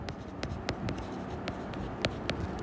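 A pen scratches across paper while accounting headings and figures are written out, making quick, irregular strokes and ticks close to the microphone with no talk.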